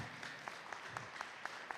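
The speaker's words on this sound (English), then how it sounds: "give a big round of applause to this team here" Faint applause for a volunteer team at a VEX V5 school board robotics invitational in Ontario, a thin scattering of distant claps over a low room murmur.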